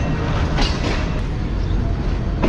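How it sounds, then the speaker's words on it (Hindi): The Tezgam train rolling out of Karachi Cantt railway station, a steady loud rumble of wheels and carriages close by with faint clicks on the rails. "और ट्रेन ने हमारी अलविदा कह दिया है कराची कैंट रेलवे स्टेशन को।"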